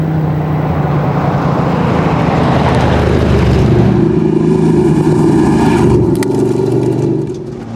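A rally car races flat out along a fast open stage of the 100 Acre Wood Rally, its engine roaring loud and steady as it passes close by, then dropping away sharply at the end.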